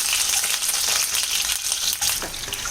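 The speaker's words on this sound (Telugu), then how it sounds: "జస్ట్ కొంచెం ఆయిల్ వేసుకొని ఇట్లా వేసుకోవాలి మనం అవి బాగుంటాయి మెత్తగా కాకుండా ఉంటాయి లైట్గా వేయించాలి" Eggs lightly frying in a little oil in a pan for egg pulusu, a loud, close, continuous hissing sizzle with slight stirring.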